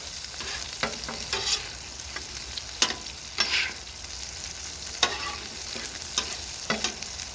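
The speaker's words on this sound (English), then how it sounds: "Just give them a little dip in the garlic butter bath." Sub buns sizzle in a garlic butter bath on a flat-top griddle, a steady frying hiss close by, punctuated by scattered scrapes and taps of a spatula against the metal.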